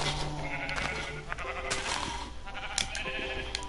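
Minecraft sheep bleating in a nasal, wavering cry over a steady game background of low hum and soft ambient tones, fairly close and clear, with no talk.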